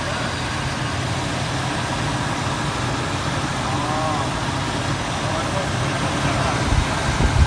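A Chevrolet police car engine runs at a steady, rough idle after long storage in the desert, a constant low rumble with broadband noise that grows slightly louder and choppier toward the end.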